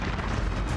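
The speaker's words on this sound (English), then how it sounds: "Looks like the explosion came from the west." A deep, roaring explosion fills a TV soap opera promo, a dense low rumble sustained throughout with no voices over it.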